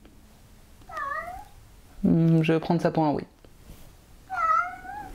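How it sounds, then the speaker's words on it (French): A house cat meows twice, a short rising call near the start and another near the end, with a person speaking clearly between them. "C'était le chat qui souhaitait intervenir et donner son propre point de vue."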